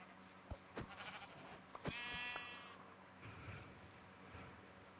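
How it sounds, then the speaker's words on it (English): A sheep bleats in the Minecraft video game, a faint wavering baa in a forest setting, preceded by a few soft thumps and followed by quiet ambient game noise. "Ah, yes, sheep."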